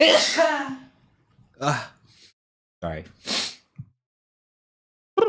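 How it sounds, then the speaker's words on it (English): One loud, close sneeze bursts out at the start, and a few short speech sounds and a sniff follow in a quiet room. "Oh, I'm gonna sneeze."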